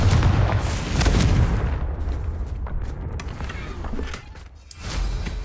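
Confringo blasting spell in the video game Hogwarts Legacy, a loud booming explosion with a rumbling low crash that slowly decays, then a second blast swells near the end.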